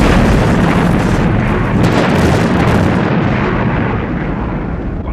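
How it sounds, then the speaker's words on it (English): Explosive charges detonating: a loud, sustained roaring blast that fills the whole clip with rumbling and crackling debris. It stays dense and heavy for several seconds, then fades slightly at the end, with no voices. "Detonating charges"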